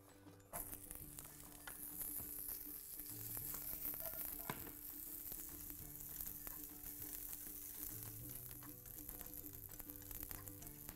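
Peanut oil sizzling steadily in a pan, a continuous bright hiss that holds at an even level throughout, with faint clinks of stirring underneath.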